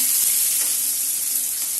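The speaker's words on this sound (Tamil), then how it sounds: "நான் நறுக்கி வச்சுருந்த வெங்காயம் இருக்கு இல்லையா, அதையும் போட்டுட்டு நல்லா கிளறி விட்டணும்." Loud, steady sizzling of onions frying in a pan, with faint scraping of stirring under the hiss.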